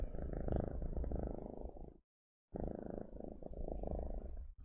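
A pet cat purrs close up in a steady, rumbling rhythm that breaks off for a brief pause and then resumes, with no talking.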